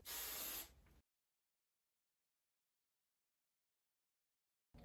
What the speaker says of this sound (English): I'm just going to seal it in with TRESemmé Tress 2 Extra Hold Hairspray